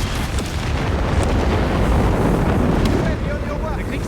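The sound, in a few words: artillery strike explosions, from video game Company of Heroes 3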